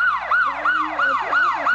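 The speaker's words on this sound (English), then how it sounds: "Can you turn that siren off? It's really annoying." A loud emergency siren wails in a rapid, repeating rise-and-fall pattern, close and continuous throughout with no other sounds.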